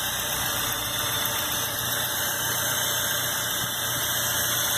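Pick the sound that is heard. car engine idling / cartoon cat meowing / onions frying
car engine idling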